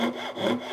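Short strokes of a hand saw cutting wood for the pins of a tea caddy joint, a close, steady rasping rhythm with no talk.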